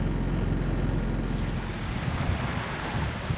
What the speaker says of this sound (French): On a droit à un petit vent, on a 15-16 nœuds